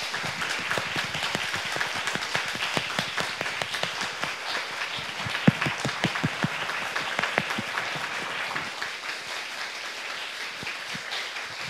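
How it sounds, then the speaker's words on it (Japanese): Audience applause at a women's suffrage commemorative symposium, a dense steady patter of many hands clapping filling the room at a moderate level, alone without talk. "賛同いただける方はどうぞご拍手をお願いいたします"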